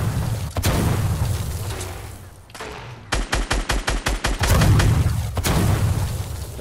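Gunfire in Fortnite Battle Royale: loud continuous shooting and booms, then a rapid evenly spaced burst of about a dozen shots, followed by more heavy firing, close and dense with no talking.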